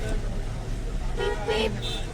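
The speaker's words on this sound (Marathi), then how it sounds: "या महाबळेश्वर मंदिरामध्ये खूप जास्त ट्रॅफिक आहे" Traffic outside the temple at Mahabaleshwar hill station, with a couple of short car horn toots sounding close amid a rumbling road noise as people talk.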